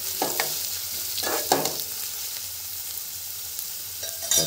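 Onions frying in a pan over a wood-fired stove for dry mutton: a constant sizzle sits under a few distinct stirring scrapes near the start and the end.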